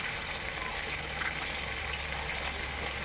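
Fish frying in a pan for a Bengali paturi-style dish, a steady continuous sizzle with faint crackle and bubbling throughout, fairly close and without any talking.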